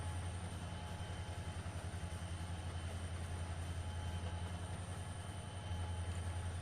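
Simulated train rolling along the Keystone Corridor toward the Horseshoe Curve in Trainz Simulator 2, a steady low rumble with faint rhythmic wheel clatter and a thin high whine, continuous and unbroken with no voices.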